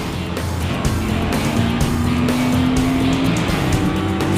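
A race car corners on a circuit, its engine droning loud and close with a rising tone as it brakes, downshifts and accelerates, and a faint tire squeal runs beneath it.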